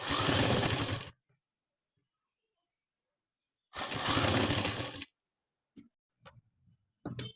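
Two short bursts of a sewing machine stitching a neck strip onto a blouse, each run about a second long and loud, separated by silence, followed by a few faint handling clicks.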